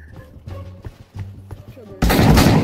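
Calm talking gives way to a sudden loud burst of close gunfire in the VR shooter Pavlov VR, a tight cluster of shots filling the last second.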